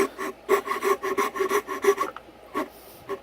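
Close-up sawing by hand: a series of rhythmic rasping strokes, back and forth about twice per second, then a short pause and a couple more strokes.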